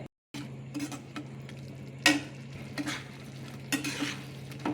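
A spoon scrapes and knocks softly in a pot of boiled chana dal as fried taro is stirred in, a few quiet, scattered clinks and scrapes over a low steady hum, close up and without talk.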